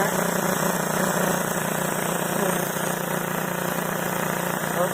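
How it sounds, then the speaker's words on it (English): A Harvest Right oil-less vacuum pump runs close by with a constant mechanical hum and buzzing drone, steady and fairly loud throughout, vibrating on a table. "I'll get it closer to the pump so you can hear it start up."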